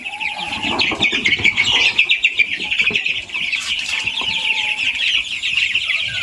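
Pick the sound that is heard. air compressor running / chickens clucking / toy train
chickens clucking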